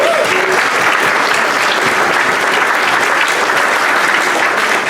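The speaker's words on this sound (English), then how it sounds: "Give him a round of applause." A Rotary club meeting audience applauds a former president on his birthday, a loud, even stretch of dense clapping filling the room for about five seconds with little talk.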